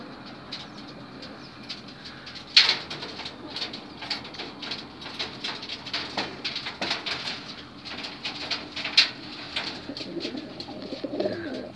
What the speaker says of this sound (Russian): Три голуби Ивана Николаевича.